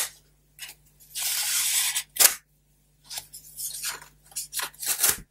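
Scissors cutting open a plump paper envelope, close crisp snips and crunchy paper slicing in several bursts separated by short quiet gaps, with no talk.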